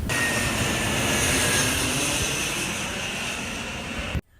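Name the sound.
airplane flying overhead near an airport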